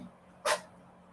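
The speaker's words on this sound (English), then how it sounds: "My poor kitty is sneezing." A cat gives a single short, sharp sneeze, close and brief, against a quiet background.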